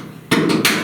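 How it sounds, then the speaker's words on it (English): Hammer taps down a raised lip of metal around a hole in the dented rear body panel of a 1969 Chevrolet C10: three sharp, close knocks in quick succession, with no talking. "I'm going to hammer on the lower hole right here"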